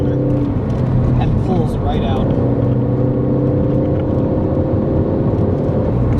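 A 2013 Ford Focus ST drives through a corner, its engine droning steadily under the tire and road noise inside the cabin, with a person talking over it.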